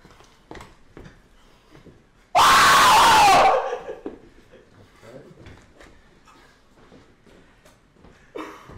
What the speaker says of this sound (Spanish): se puso a gritar como loco cuando lo vio